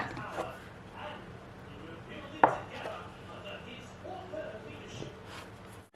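Tiger bread dough being cut into 50-gram portions on a work surface, with one sharp knock of a scraper or knife against the board midway through and softer handling sounds around it, and a voice speaking at times.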